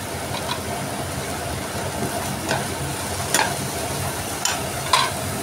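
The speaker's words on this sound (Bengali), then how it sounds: "নারকোল আর লঙ্কাটা অনেকটাই ভাজা ভাজা হয়ে গেছে" Coconut and chili fry in a pan, a steady sizzling hiss broken by several sharp clinks of a spatula against the pan, close and without voices.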